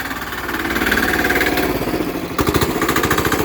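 A small diesel engine on a mini bike or lawn mower runs close and loud with a steady, rhythmic chugging idle. The pulse turns sharper and more pronounced near the end.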